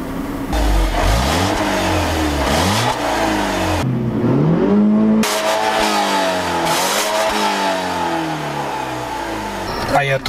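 A BMW 316i E46 drives and accelerates, its mid-pitched four-cylinder engine rising in revs through several gear changes with brief dips between shifts, loud and close from inside the car.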